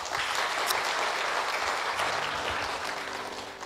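A church congregation at a Christmas service applauds loudly, the clapping dense and steady the whole time, easing off slightly at the end.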